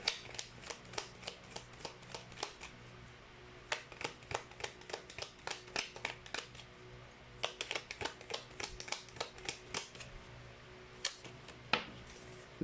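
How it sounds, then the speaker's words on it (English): A hexagonal tarot deck is shuffled by hand in quick bursts of crisp riffling card flicks, irregular clusters of sharp snaps with short pauses between, close and fairly quiet. "It's hard to shuffle this deck because it's hexagonal in shape."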